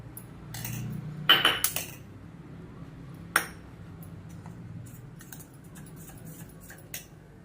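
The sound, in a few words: stirring vanilla custard powder into cold milk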